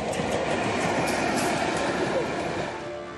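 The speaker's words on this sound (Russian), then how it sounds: "Покажем, как на станции Юдина товарные вагоны сошли с рельсов." Freight train wagons roll along the railway at a station, producing a steady, dense rumble and rattle throughout that eases slightly toward the end.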